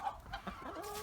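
Chickens cluck in a farm shed on a winter day, a brief burst of close, overlapping hen calls.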